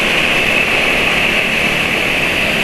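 A motorcycle engine runs at low RPM on Deltalube Adventure oil, giving a loud, close, steady drone with a constant hissy whine and no talking over it.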